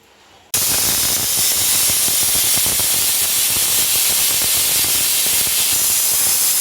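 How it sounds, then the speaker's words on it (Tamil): After a brief quiet moment, a loud, steady hiss of steam bursts out of a pressure cooker making prawn biryani and continues, with a faint rattling from the cooker weight. "ரெண்டு விசில் வந்துடுச்சு நான் குக்கரை ஆஃப் பண்ண போகிறேன்"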